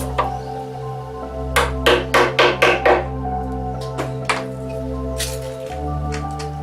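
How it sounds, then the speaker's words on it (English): A mallet knocks into a wooden cornhole board in a burst of about six sharp, close knocks in quick succession, with a few scattered taps before and after over a steady low hum. "I'm gonna take my trusty mallet that's been with me for years."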